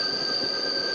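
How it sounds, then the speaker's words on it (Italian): A train rolling on rails through the Milano Smistamento rail yard, a steady close roar with sustained high wheel squeal ringing over it for the whole second, no voices. "questo è un treno."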